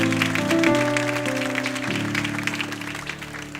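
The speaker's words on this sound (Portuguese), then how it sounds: "Vamos aplaudir essa palavra?" A church congregation claps together, a dense wash of applause layered over sustained keyboard chords that shift a few times and fade gradually.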